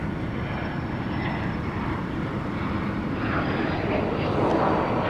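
An airliner in Freedom One livery roars steadily at Dallas Love Field, its broad jet engine rumble loud and continuous and swelling slightly toward the end as it passes nearby.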